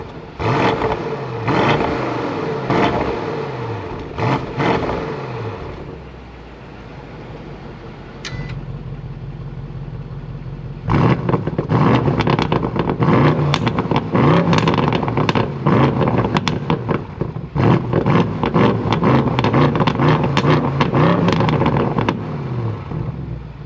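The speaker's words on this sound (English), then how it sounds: "let's give her a little rev" A 2021 BMW M850i xDrive engine blips through several short revs, then settles to a lower idle before a long run of loud, sustained revving with popping and crackling, heard up close.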